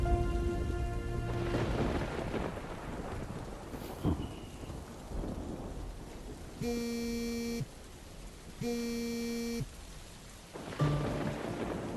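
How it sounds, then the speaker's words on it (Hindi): Rain falls steadily outside with a low rumble of thunder, while sustained electronic buzzing tones sound over it in several separate bursts. "बाहर बारिश हो रही थी"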